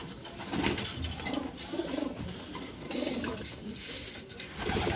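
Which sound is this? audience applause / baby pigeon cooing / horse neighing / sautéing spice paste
baby pigeon cooing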